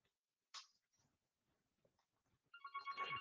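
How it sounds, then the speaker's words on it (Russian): A telephone rings on a 3CX phone system: after a few faint clicks, an electronic ringtone starts near the end, bright and clear against otherwise quiet surroundings. "По звуку звонка можно слышать, что это уже другой телефон"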